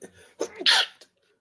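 A single sharp sneeze bursts out mid-conversation, preceded by a brief inhale and a short breathy onset, then falls to silence; close and fairly loud.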